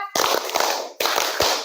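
Classroom pupils clap hands together in a rhythmic pattern, sharp bursts of claps in short groups with brief pauses between them.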